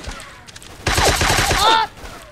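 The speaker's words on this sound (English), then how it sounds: "Whoa, someone's trying to shoot me from the other doorway." Rapid gunfire bursts out in a dense, loud volley lasting about a second during a Roblox shooter match, with a brief voice exclamation over it and quieter game sounds before and after.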